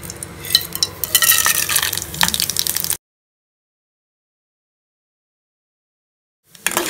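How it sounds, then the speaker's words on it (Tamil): Mustard seeds, urad dal, chana dal and fennel seeds fry in hot oil, giving a dense, close spitting and popping crackle for a few seconds before a sudden silence and a brief return of noise. "எண்ணெய் நல்லா காஞ்சதுக்கப்புறமா கடுகு உளுத்தம் பருப்பு, கடலைப்பருப்பு, பெருஞ்சீரகம் இதெல்லாம் சேர்த்துக்கலாம்."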